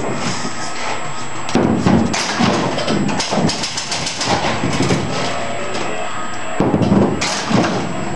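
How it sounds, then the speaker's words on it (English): A restored 1957 Bally ABC Bowling Lanes six-player ball bowler arcade machine is played in a garage, with repeated loud thumps and rolling clatter of the ball and pins under a continuous mechanical hum. "This is a six-player Bally ball bowler, and it's been totally restored, repainted, revarnished, mechanically sound, and we're going to bowl some games."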